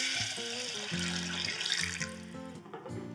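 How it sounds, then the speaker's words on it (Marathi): Plenty of water pours steadily into a pot of misal with sprouted moth beans, a close continuous splashing rush under a background music melody. "आणि आता मिसळ आहे तर यामध्ये भरपूर पाणी आपण घालतो।"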